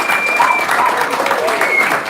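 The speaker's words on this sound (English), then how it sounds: "give me a round of applause" An audience at a talk in London breaks into loud, close applause, a thick continuous clatter of many hands with voices calling out and whooping over it throughout.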